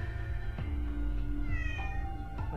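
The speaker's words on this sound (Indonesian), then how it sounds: "Ada kucing. Kita pet the cat lah." Cat meowing in the Hyde & Seek mobile game, several short meows over a steady game soundtrack, with a rising mewl near the end.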